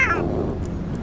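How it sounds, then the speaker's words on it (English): Cat in the Minecraft movie trailer giving a single short falling meow at the start, close and clear, trailing off into a low background rumble. "You don't have cats in your world?"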